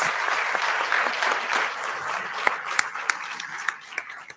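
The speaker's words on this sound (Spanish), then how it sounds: "Muy bien, fuerte ese aplauso." Audience applause at a live event, a dense wash of clapping from a crowd that thins toward the end into a few scattered, sharper individual claps.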